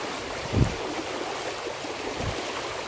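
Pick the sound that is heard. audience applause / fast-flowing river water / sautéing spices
fast-flowing river water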